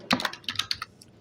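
A command being typed on a computer keyboard: about eight quick, close keystrokes clicking in an uneven rhythm over roughly one second, alone with no voices.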